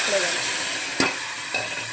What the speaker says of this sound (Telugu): పప్పు పోసేసుకుంటున్నా పోపు ఇట్లా రావాలి